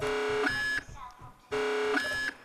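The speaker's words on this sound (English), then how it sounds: "we're going to go ahead and play the alarms" A ship's alarm sounds in the Space Engineers game aboard an Akula cruiser: two loud electronic bursts, each a buzzing harmonic tone that jumps up in pitch partway through, separated by a short pause.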